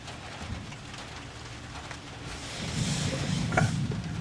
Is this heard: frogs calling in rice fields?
no